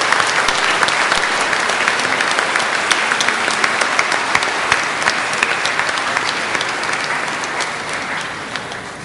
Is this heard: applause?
yes